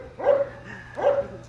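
A pet dog barks twice, two sharp close barks about three quarters of a second apart, loud against a quiet background with no talking.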